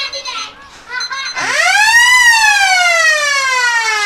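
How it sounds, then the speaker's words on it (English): A loud siren wails at a Group 2 rugby league reserve grade match between Grafton Ghosts and Macksville, a rising then slowly falling tone that holds steady, preceded by faint crowd and field noise. "Siren goes in the background."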